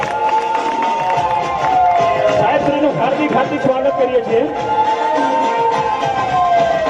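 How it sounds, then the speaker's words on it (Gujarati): Crowd at a Gujarati village gathering applauding to welcome the former sarpanch, sustained clapping and cheering under a loud amplified announcer's voice throughout. "તેમને પણ તાળીઓ ગડગડાથી વધાવી લઈએ"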